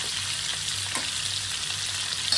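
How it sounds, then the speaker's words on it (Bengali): Large prawns frying in a pan of hot oil make a steady, loud, continuous sizzle and crackle close by that keeps going without letting up. "চিংড়ি মাছ প্রচন্ড থাকে তাই জন্য 2 থেকে ভেজে নিচ্ছি। এগুলো ফ্রাই হোক 1 মিনিটের জন্য"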